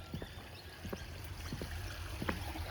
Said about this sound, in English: It's got like a creek that runs through it between the two ponds